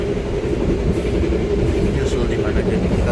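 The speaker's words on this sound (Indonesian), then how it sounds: "jadi kita tunggu sampai Gajayana menyusul kereta api Jayakarta." Gajayana passenger train rumbling past on the line, a loud continuous roar of wheels and carriages with a steady hum, close and unbroken throughout.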